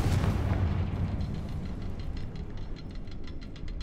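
A Confringo fire spell in the Hogwarts Legacy video game lands as a loud booming blast, followed by a crackling, rumbling tail that slowly fades.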